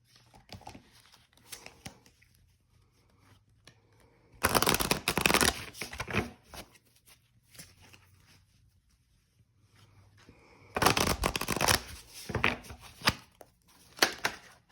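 Cards from an Earthly Souls and Spirits Moon oracle deck are shuffled by hand in two separate bursts of close, papery riffling, with quiet rustling and handling between them.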